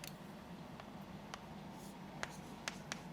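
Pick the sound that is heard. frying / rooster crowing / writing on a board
writing on a board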